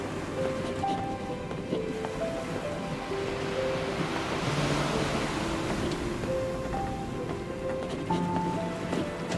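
Turbulent ocean waves surge around a ship's bow in the video game NieR Re[in]carnation, a steady broad wash of surf and wind with tonal game music layered over it throughout.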